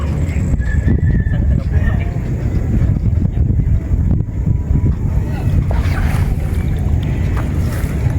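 Steady wind rushes and buffets across the recording, with people talking over it outdoors at a milkfish fishing pond.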